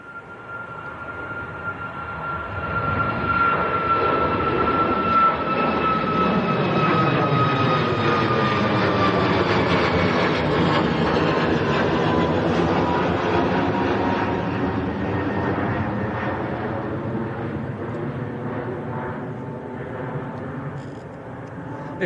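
An airliner with a light blue tail at Manchester Airport, a loud sustained jet roar that swells and slowly passes, with a whining engine tone shifting in pitch as it goes by.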